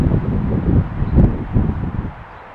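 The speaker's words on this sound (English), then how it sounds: "It's really windy out here." Wind buffets the microphone in a steady low roar with gusty surges, loud and close, with no voices.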